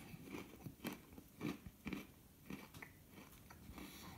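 Oreo Most Stuf cookies bitten and chewed close up, a series of crisp crunches repeating roughly every half second with no talking.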